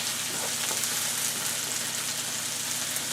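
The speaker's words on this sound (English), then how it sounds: "So the onions are getting golden brown now." Chopped onions sizzle in a hot pan as they fry to golden brown for a German pork and sauerkraut casserole, a steady close crackling hiss with no speech.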